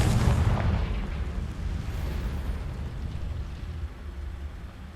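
The Confringo explosive spell in Hogwarts Legacy goes off as a loud booming blast at the start, then a long rumbling roar that slowly fades, with no talking.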